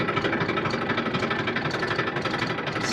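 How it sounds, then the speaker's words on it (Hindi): Tractor engine running steadily after starting in a wheat-sowing field, a continuous loud rumbling, knocking drone with constant vibration and no talk. "तो ट्रैक्टर करते हैं स्टार्ट, ये लगाते हैं पहला गियर"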